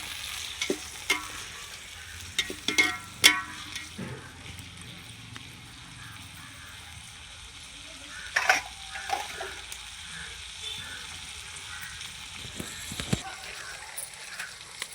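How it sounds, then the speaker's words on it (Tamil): Onions and tomatoes sauté in a pan with rock salt for a Vellore-style seeraga samba chicken dum biryani. A soft sizzle runs under intermittent scraping and stirring clatter from a spoon against the pan. "வெங்காயம் தக்காளி நல்லா வதங்கிச்சு."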